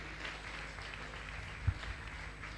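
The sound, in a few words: audience applause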